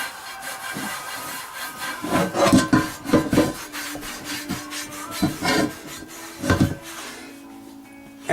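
A cloth rubs flax oil out of a cast iron pan in quick, uneven scrubbing strokes, close and raspy, bursting in short rhythmic clusters with pauses between.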